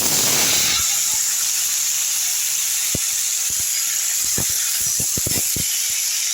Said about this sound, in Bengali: আমি এর মধ্যে এখন টমেটোগুলো দিয়ে দিচ্ছি।